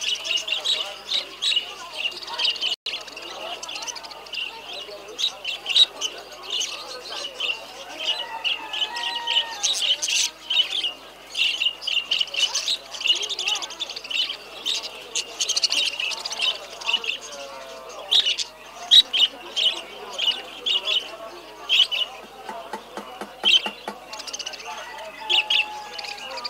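Many caged local birds at the Omdurman bird market chirp, tweet and squawk in a dense, continuous chorus, with occasional rooster-like calls and voices talking faintly in the background.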